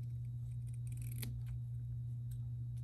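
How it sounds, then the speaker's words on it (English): Scissors snip strips from a Christmas craft piece, several short crisp cuts in a quick cluster and then a lone snip, close up over a steady low electrical hum with no talking. "we're just going to cut it"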